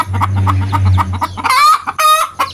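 Brooding hen clucking on a shared nest of eggs, a close, steady series of short clucks that rises into a couple of louder, drawn-out squawking calls near the end.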